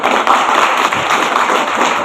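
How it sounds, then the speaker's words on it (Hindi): A sustained burst of audience applause at a Safe Shop business meeting, dense and steady clapping from a large crowd filling the whole stretch with no talk over it. "जबरदस्त ताली भी चाहिए।"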